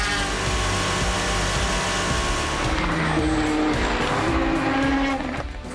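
A race car driving a lap, its engine roaring steadily close by with squealing tires through the corners, loud and continuous throughout.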